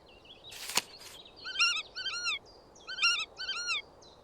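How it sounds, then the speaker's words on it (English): House sparrow from the Wingspan video game: a burst of crisp, rapid chirps followed by several clusters of bright twittering notes, close and clear against a quiet background, with a brief rustling noise at the start. "House sparrow"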